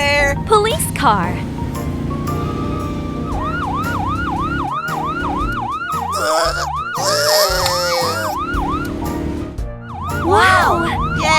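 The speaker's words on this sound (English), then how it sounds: "Police car." Cartoon police car siren wailing in a repeated rising-falling pattern, loud and near, interrupted by cheerful children's voices and music in a construction-vehicle highway cartoon.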